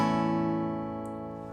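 A single open guitar chord strummed once, its strings ringing in a sustained, slowly fading wash, played alone as part of a song lesson.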